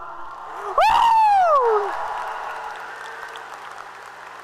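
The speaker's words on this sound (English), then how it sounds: "Can I get a cheer for our bus drivers and all they do for us?" Crowd at a high school graduation ceremony breaks into applause with a loud whoop rising over it, the cheering swelling briefly then settling into steady clapping.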